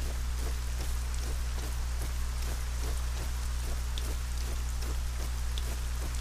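Rain falls steadily in the ArcaniA video game, a continuous even hiss of drops with faint rhythmic patter, heard alone at moderate level.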